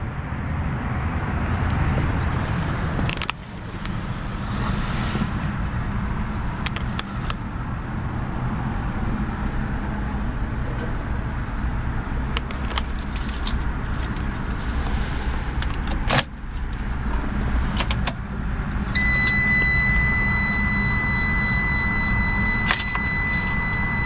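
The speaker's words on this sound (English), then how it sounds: "Absolutely flawless sounding little motor." A 2012 Fiat 500C Gucci Edition's small engine idles steadily, a low, even hum with a few faint clicks and a brief electronic tone near the end.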